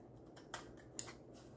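Right-handed scissors trim the edges of a paper paint chip craft, making two quick, quiet snips about half a second apart in an otherwise hushed room.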